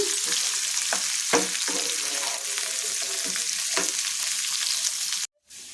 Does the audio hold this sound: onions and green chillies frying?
yes